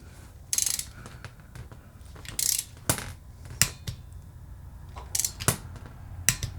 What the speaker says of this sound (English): let's just torque this down just a little bit, and then I'm going to switch over to the torque wrench